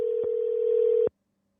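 A steady telephone tone sounds through a phone-in call line. It is loud and continuous, then cuts off abruptly into silence.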